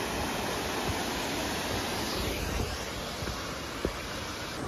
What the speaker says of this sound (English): Second waterfall.